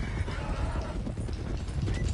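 Horses in a Western open-world game clip-clop steadily on the trail, with rapid hoofbeats close by and a neigh mixed in, over a low, rumbling background.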